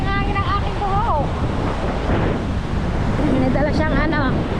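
Strong surf and gusty wind on a beach, a constant loud roar of breaking waves with wind buffeting the microphone, while people talk over it.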